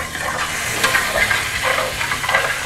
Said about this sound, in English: so I'm just gonna add about 1 tablespoon just to kind of get those drippings to